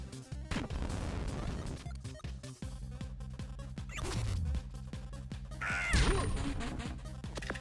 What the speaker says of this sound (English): A loud bird.